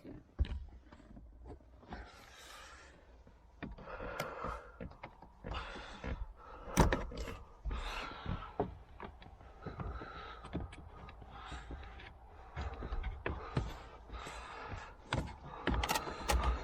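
Plastic trim tool prying and popping interior trim panels loose inside a Toyota MR2, a run of sharp clicks, thunks and plastic creaks at close range, scattered through about seventeen seconds of handling noise with no talk.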